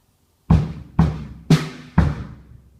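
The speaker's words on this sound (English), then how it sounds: "bass, bass, snare, and then quickly another bass afterwards." Four sharp drum hits in a steady rhythm, each with a booming low body and quick decay, played alone and close.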